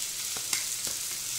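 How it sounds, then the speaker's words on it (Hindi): Chopped onion and garlic frying in butter in a pan, a continuous close sizzle with a few soft stirring strokes. "प्याज को भी हम बटर के साथ 1 मिनट तक अच्छे से भून लेंगे।"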